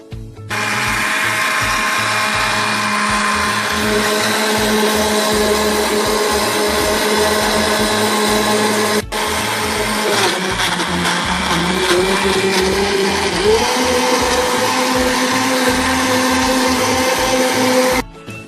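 A kitchen blender whirs loudly and continuously while beating banana cake batter, with a brief cut midway and the motor pitch shifting as sugar is gradually added.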